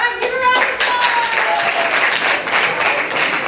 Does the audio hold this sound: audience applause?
yes